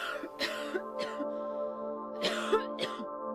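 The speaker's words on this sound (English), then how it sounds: "You'd better do something about that cough." A few raspy coughs from the video game Silent Hill 2 over a sustained tonal hum, with breathy bursts spaced irregularly and moderately close.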